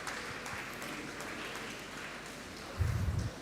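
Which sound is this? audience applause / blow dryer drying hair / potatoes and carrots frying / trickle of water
audience applause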